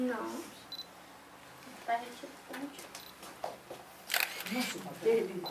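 A single-lens reflex camera shutter clicks several times in short, sharp bursts as photos are taken, quiet and close, with people talking softly in between.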